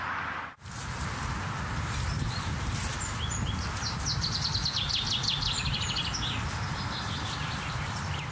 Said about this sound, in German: Die Finken zwitschern so laut